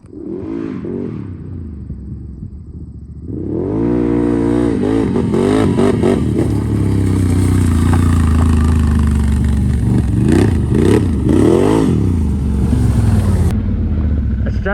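A 2019 Can-Am Outlander 1000 XXC ATV engine idling and then revving hard, with repeated throttle burps that rise and fall over a steady loud drone, close by.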